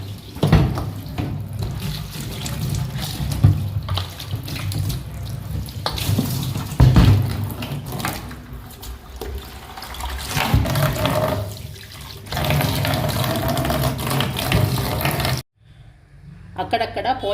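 Tap water pours and splashes continuously as a stained plastic bucket is rinsed and rubbed by hand, the flow steady and close, then cutting off abruptly near the end; a voice speaks briefly over it.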